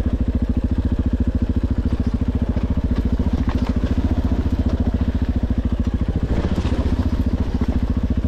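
Enduro motorcycle engine running steadily and close during a downhill descent, a continuous low throbbing pulse with some clatter and crackle, no talk over it.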